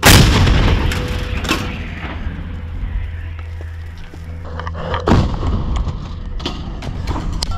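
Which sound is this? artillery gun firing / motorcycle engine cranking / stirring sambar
artillery gun firing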